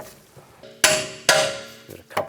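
A hammer knocks bolts into place on a steering knuckle, two sharp ringing metallic taps followed by a couple of lighter knocks, close and clear with no talk.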